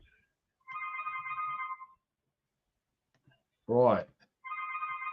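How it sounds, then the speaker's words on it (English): A telephone rings twice in a warbling electronic pattern, separated by a short spoken word, clear and fairly close within an otherwise quiet room. "Bill's got lots of phone calls in the background"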